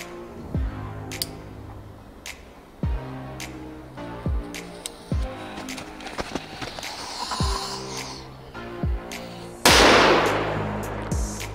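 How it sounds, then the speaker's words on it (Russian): Powerful Doom-Boom firecracker with a glowing effect set off on a block of ice, heard as a series of sharp cracking bangs at intervals and ending in a loud, broad burst near the close. "Возьмем вот такую вот мощную петарду Дум-Бум."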